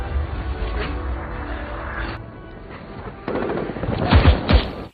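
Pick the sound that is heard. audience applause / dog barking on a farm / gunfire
gunfire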